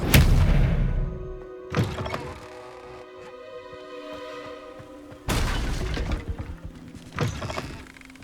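A disarming spell cast in the Hogwarts Legacy video game bursts out as a loud, heavy thud. Sharper impacts and whooshes follow, set against sustained tonal game music, with a second burst about five seconds in.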